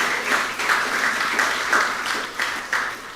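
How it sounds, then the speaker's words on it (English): An audience at an annual Emancipation lecture applauds the winners, steady dense clapping from many hands filling the room, swelling in waves throughout. "please give them another round of applause for their hard work"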